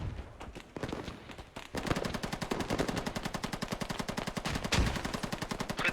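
Rapid automatic gunfire in a squad shooter video game, dense bursts of repeated shots that start sparse and turn into a loud, sustained rattling stream of rounds.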